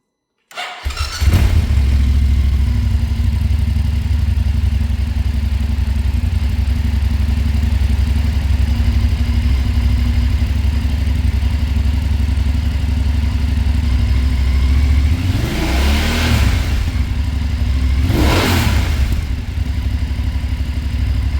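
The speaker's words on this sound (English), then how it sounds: "just thought I'd do a little sound clip here with the catalyst on and the Akrapovic slip-on." A BMW F850GS motorcycle fitted with an Akrapovic slip-on exhaust and the catalyst still in place starts up and settles into a loud, steady idle, with two brief throttle blips near the end.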